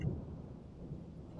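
A Roblox thunderstorm rumbles low and steady, a soft, distant roll of thunder with faint rain hiss, quiet throughout.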